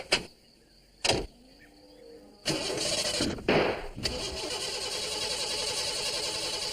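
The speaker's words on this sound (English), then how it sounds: "She won't start, Ted." An old postman's van engine cranks but fails to start in a cartoon, with a couple of short bursts of starter grinding followed by a longer, sputtering churn that never catches.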